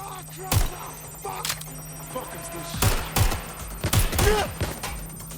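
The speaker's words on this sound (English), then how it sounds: "Shots fired!" Gunfire rings out in the video game Watch Dogs 2: a handful of sharp, loud shots come in uneven bursts, and voices speak between and under them.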